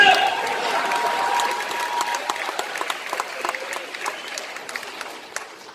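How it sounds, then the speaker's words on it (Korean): Audience applause at a healing concert by a popera singer, dense and fairly close at first, then thinning into scattered individual claps as it fades. "박수 칠 거랍니다."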